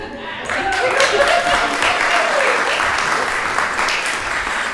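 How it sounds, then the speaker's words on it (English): Warm applause fills a book launch event, steady clapping from the audience carrying on for several seconds as a faint voice drifts through the crowd noise. "Give Dina a warm round of applause"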